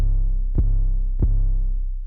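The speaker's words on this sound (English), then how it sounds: "Do your 808s sound like this?" Deep, sustained 808 bass in a beat, a long booming low tone with two sharp kick-like hits about 0.65 seconds apart, loud and alone with no talk.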